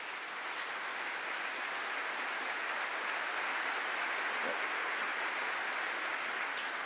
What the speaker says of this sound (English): It'd be best if you hold your applause